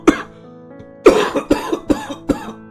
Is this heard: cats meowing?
no